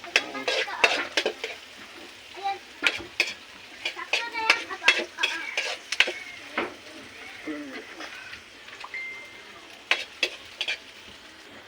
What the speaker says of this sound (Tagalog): Halugin natin siya para mas gustong maraming ricado.